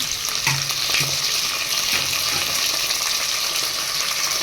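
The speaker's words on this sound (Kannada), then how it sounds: "ನಂತರ ಈರುಳ್ಳಿ ಹಾಕ್ಕೊಂತ ಇದ್ದೀನಿ ಈಗ ಸ್ವಲ್ಪ ಗೋಲ್ಡ್ ಕಲರ್ ಫ್ರೈ ಆಗಬೇಕು" Onions frying in a pan for green pulao, a steady close sizzle with occasional soft stirring scrapes and no talk.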